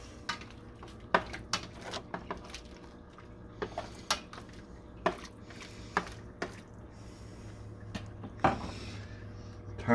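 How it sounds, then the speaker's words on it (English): Beef stroganoff is stirred in a pot, a spoon scraping and knocking against the metal in irregular close clinks and taps over a faint background hum. "we're going to stir that up"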